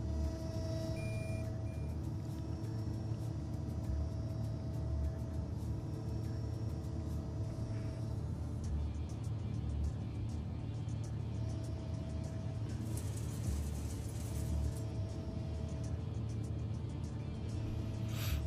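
A finished car rolls off the assembly line in the Production Line game with a steady low engine rumble and hum that goes on without a break, with faint beeping tones now and then.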